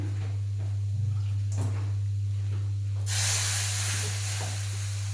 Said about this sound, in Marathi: यात आपण दोन ते चार थेंब किंवा थोडस पाण्याचा शिपकाळा द्यायचा आहे